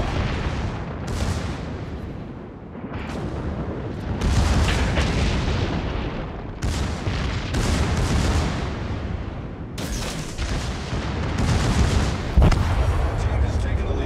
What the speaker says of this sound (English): We destroyed an enemy battleship.